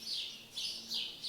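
Birds chirping outdoors in a quick repeating series of high tweets, three or four bright calls at a steady rhythm, moderately faint and heard alone.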